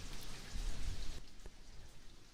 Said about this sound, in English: it was raining pretty good for a while when I recorded this, so you can hear more drainage. Water trickling down through drain pipes.